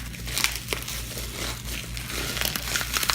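Wrapping paper from a Fallout mystery box crinkles and crumples close up, a continuous rustle with sharper crackling bursts as it is handled during unboxing.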